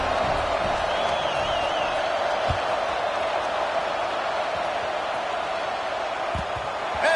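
A steady, loud stadium crowd roar from the video game College Football 26, Notre Dame vs USC, fills the whole stretch as a continuous wash of murmuring fans with no distinct cheers.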